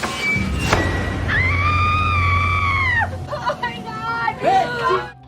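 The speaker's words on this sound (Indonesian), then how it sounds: "Jerit kesakitan" A woman lets out a long, loud, sustained scream, followed by shorter wavering cries and whimpers, with background noise underneath.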